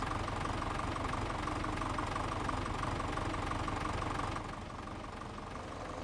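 An Akron bagger machine in a farming game mod idles steadily nearby with a rough, knocking chug, then drops slightly quieter near the end.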